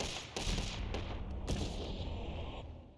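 Gunfire in the video game Hunt: Showdown, a few loud sharp shots cracking close by, each followed by a decaying tail and low rumble, with no talking.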